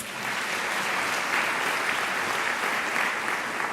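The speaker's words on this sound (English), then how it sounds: "I think it deserves a round of applause" Steady, dense audience applause filling a graduation ceremony hall at a South African university, sustained and even throughout with no talk over it.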